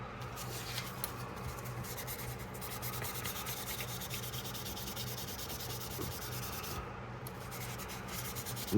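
Sandpaper rubbing over the back spring of a 1973 Case XX coke bottle jackknife: a steady, faint, close-up scratchy scrubbing that continues without a break.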